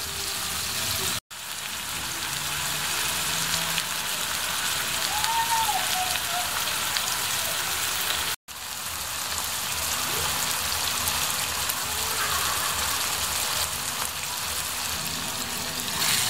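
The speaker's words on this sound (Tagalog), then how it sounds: "ang purpose natin ngayon, ang objective natin ay i-brown ang karne" Meat browning in a pan with dried bay leaves, a steady dense sizzle that holds evenly throughout and is broken by two brief drops to silence.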